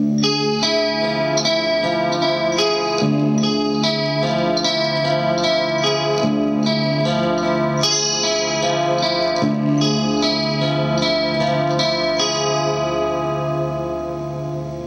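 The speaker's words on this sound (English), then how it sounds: "Distortion to those notes." Sustained distorted, effects-laden notes on E, A sharp, F sharp and G, layered with chorus-like shimmer into a dense harmonic drone, with repeated sharp ticking transients across a steady, loud passage for a movie score.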